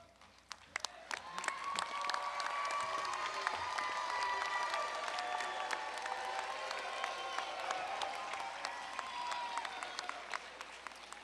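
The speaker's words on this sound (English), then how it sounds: "give everybody that is here that has supported you over the years a round of applause" Steady applause from an audience at a 2025 College of Pharmacy commencement ceremony, honouring the graduates' supporters, with some cheering and high-pitched whistles over a dense clapping wash that swells and holds for about eleven seconds.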